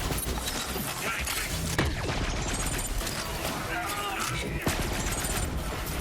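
Gunfire in the shooter game Borderlands 3: a dense, sustained barrage of rapid shots with mechanical clatter and a few sharper cracks, heard loud and continuous amid busy game effects.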